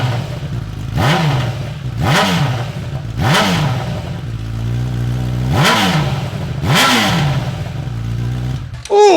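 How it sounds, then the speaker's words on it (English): A Honda CB1000R with an SC Project exhaust and the muffler removed starts up and is revved hard, giving five sharp, loud throttle blips over a rough idle, with a clatter at the end. "I wanna start this exhaust one time without the muffler on so we can see what it sounds like."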